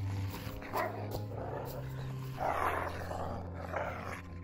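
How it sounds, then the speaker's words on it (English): Dogs growl and bark in a horror video game, a rough snarling bark rising and falling over a low droning hum of game music, moderately loud and continuous throughout. "More dogs to kill, why not?"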